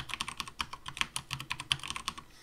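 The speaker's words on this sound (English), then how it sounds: "My password, I'm going to type in something super secret here." Quick, steady keystrokes on a computer keyboard as a password is entered, a dense run of close, light clicks with no speech.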